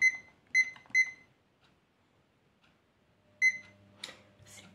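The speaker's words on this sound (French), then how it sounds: "J'ai mis mon petit minuteur." A small kitchen timer gives three quick electronic beeps as it is set, then a fourth after a pause, followed by faint handling clicks and rustles close by.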